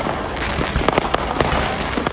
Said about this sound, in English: They're fed up with the nightly fireworks displays that have soared across the city